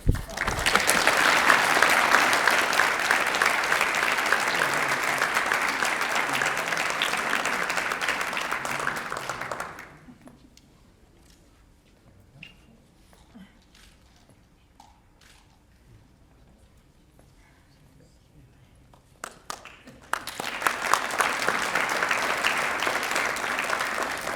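A hall of fame ceremony audience bursts into loud sustained applause, which stops abruptly into near silence for about ten seconds and then resumes just as full and loud.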